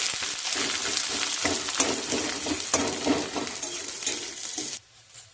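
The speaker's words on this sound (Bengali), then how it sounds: "পেঁয়াজটাও ভালোভাবে লাল লাল করে ভেজে নেব।" Chopped onion frying in hot oil in a pan, a steady close sizzle with crackles and occasional stirring clinks, cutting off abruptly near the end to near quiet.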